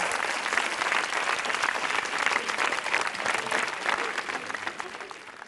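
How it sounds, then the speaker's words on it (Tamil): A studio audience at a Tamil television game show breaks into steady, loud applause, a thick wash of many clapping hands that holds throughout and fades slightly at the end. "கைத்தட்டல் கொடுக்கலாம்."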